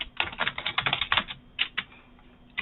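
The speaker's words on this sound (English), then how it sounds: "Let me type a comment." Quick bursts of keystrokes rattle on a computer keyboard, picked up by a budget webcam microphone, with uneven rhythm and brief pauses between clusters, fairly quiet and with no voices.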